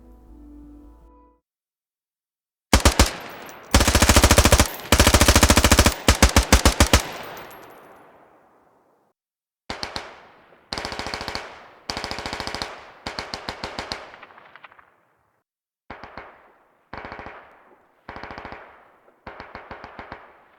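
In the Squad game, an M38 DMR rifle fires loud bursts of rapid shots, grouped strings separated by short pauses, each burst trailing off into echo.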